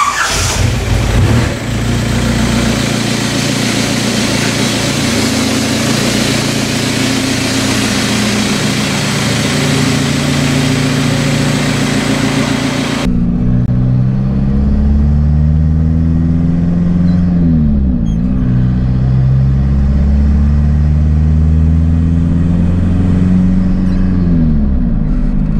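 The engine of a freshly tuned turbocharged car drones steadily and loud from inside the cabin as it drives off, rising and falling in pitch with each rev and gear change, and no one talks over it.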